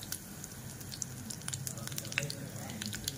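Curry leaves and chopped green chilies sizzle in hot oil for idli fry, a steady close crackling hiss with scattered sharp pops and drips throughout.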